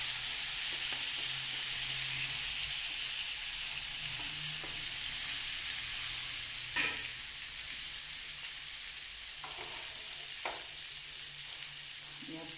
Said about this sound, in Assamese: এতিয়া মই আলুখিনি দি দিছোঁ